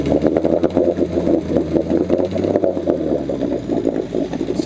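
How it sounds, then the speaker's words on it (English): A Johnson 7.5 hp outboard motor runs steadily at raised throttle, with a loud, continuous mechanical clatter and a throbbing engine drone close by. "I'll throttle it up here a little bit for you."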